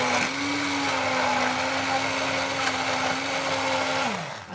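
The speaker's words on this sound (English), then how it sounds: "go with the stick blender." Stick blender whirring steadily at close range as it purees vegetable soup tipped to one side of a small pan, with a constant motor drone and a brief pitch drop near the end.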